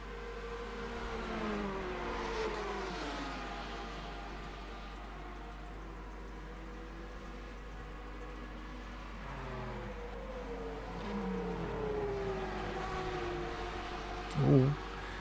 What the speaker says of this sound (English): And another hypercar.